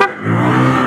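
Motorized tricycle passing in traffic on the way to Oslob, Cebu; a loud, close engine drone with a revving buzz, heard alone without speech.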